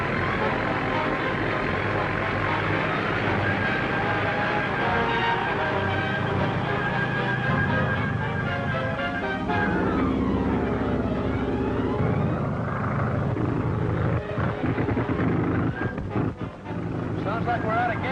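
A training plane's engine drones steadily in flight, a continuous rumbling hum with shifting tones, heard under voices and background music.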